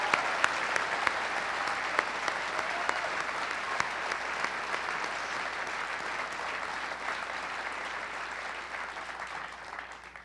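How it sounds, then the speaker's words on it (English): A gala audience breaks into sustained applause, dense even clapping from a large room that carries on loud and steady before tapering off at the end. "can I get another round of applause for these kids?"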